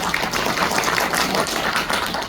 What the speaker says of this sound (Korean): 강연회를 힘찬 박수와 함께 시작하렵니다.